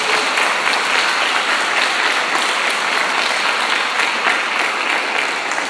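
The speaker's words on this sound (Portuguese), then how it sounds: "Vamos aplaudir essa palavra do Senhor." Steady, dense applause from a church congregation after a sermon reading, many hands clapping at once in a sustained even wash that holds for several seconds with no talk over it.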